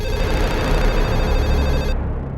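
A telephone ringing loudly and close, a continuous electronic ring that fills the clip and cuts off abruptly near the end.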